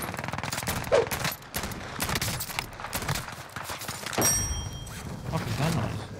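Rapid gunfire rattles in bursts during a Call of Duty Warzone match, with a player talking over the shots.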